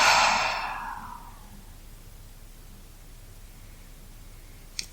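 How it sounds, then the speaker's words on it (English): A deep, slow breath during a yoga session, a long airy exhale that fades over about a second, then quiet. "And we'll take one full breath. Inhale and exhale."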